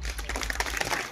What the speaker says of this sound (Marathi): त्यांच्यासाठी पुण्याला टाळ्या